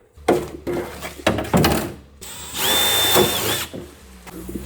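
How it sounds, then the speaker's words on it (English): A power drill bites in short bursts, then grinds steadily through metal with a rising whine before stopping, close and loud, while prepping a Mazda RX-7 FD for a new engine. "Now I need to drill it through and see if we are somewhat there."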